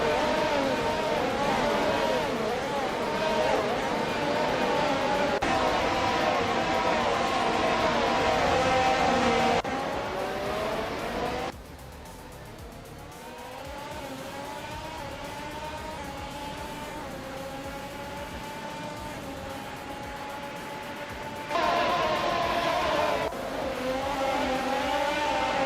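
F1 2022 race cars in a video game lap Istanbul Park, their engines whining loud and sustained, pitch climbing through gear changes, then dropping to a quieter drone before surging back up near the end.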